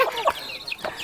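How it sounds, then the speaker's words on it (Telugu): Chickens in a tribal hill village give a quick run of close, clear clucks and short squawks, with no talk over them. "కోడ్లు ఎవరివి?"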